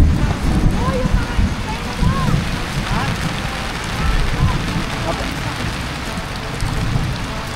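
Rain falls steadily on a tent at a budget campsite in Cavinti, Laguna, giving a dense close patter mixed with gusty wind noise, while people talk over it now and then.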